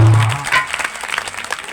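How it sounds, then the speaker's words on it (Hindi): Audience applause for a devotional speaker at a religious gathering, a brief burst of scattered clapping starting after a loud low hum and fading to lighter patter. "एक बार उन्हें जोरदार ताली"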